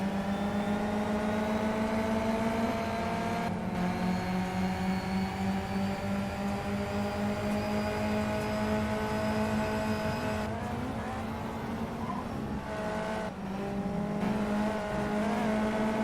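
Race cars in a racing video game championship featuring Mitsubishi Evolution X and American legends cars, engines droning and revving steadily at high pitch with gear-change dips, continuous and loud with no talk over it.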